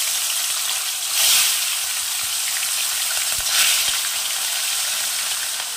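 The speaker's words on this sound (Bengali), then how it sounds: "এবার এই মাছগুলোকে ভেজে নেব।" Fish sizzle loudly while frying in hot mustard oil, a continuous crackling hiss that swells briefly twice as pieces are stirred, with faint clicks of a utensil in the pan.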